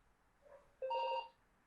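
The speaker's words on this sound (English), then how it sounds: "there's a phone ringing" A phone rings once with a short electronic tone, clear and bright against a quiet background, preceded by a faint softer chirp.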